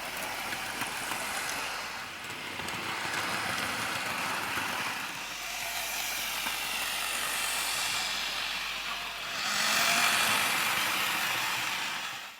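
A Hornby R9293 Thomas the Tank Engine model train runs with its Annie and Clarabel coaches, giving a steady whirring motor hum and rolling rattle that swells and fades as it passes, louder near the end.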